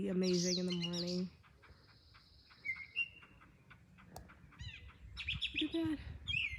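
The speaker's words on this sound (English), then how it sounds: "The birds sound absolutely amazing in the morning." Birds chirp and whistle nearby in bright, varied phrases, with a sustained whistled note and scattered tweets over quiet outdoor background.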